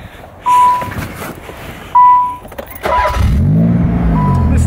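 Two loud beeps, then a Nissan 300ZX Z32 engine cranks and fires up, settling into a fast, steady high idle with a rising, wavering drone.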